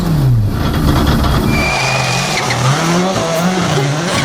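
A rally car at night on a snowy Swedish WRC stage roars with a rising and falling engine note, tires skidding, continuous and loud throughout.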